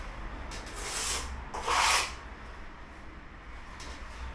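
Two soft rubbing, rasping strokes of a trowel smoothing fresh plaster over the join between old and new plaster, each lasting under a second, close by in a quiet room.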